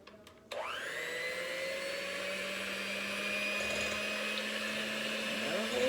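An electric mixer whips melted shea butter, switching on abruptly after a brief click and then whirring steadily at close range with a slight rise in pitch, with no voices.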